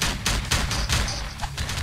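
Bursts of machine gun fire rattle through a Vietnam-themed Slendytubbies 3 horror video game, loud and close, in several rapid clusters with brief gaps between them and no speech.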